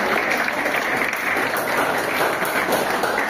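Continuous applause from the audience at a Grade 10 farewell program, dense steady clapping filling the whole stretch, fairly loud and close.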